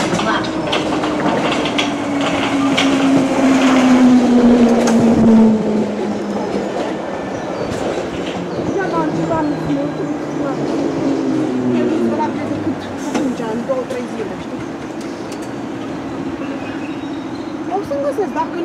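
A Hertford Loop line train is heard from on board, with a loud steady rumble and a squealing, gliding tone as it runs, while voices talk over the noise.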